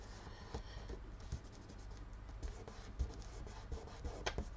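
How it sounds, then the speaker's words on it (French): Scissors cut around the edge of paper glued onto a kraft card, giving faint, close, irregular snips and scratchy rustles with no talking. "Après, on vient découper le tour."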